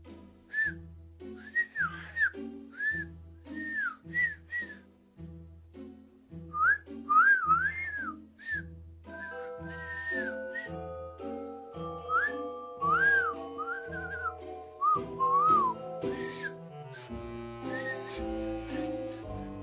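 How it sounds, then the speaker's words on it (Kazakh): A person whistles a lively melody in clear repeated phrases over a steady musical backing, with no talk. "Ай, ысқырып келістіре бермей."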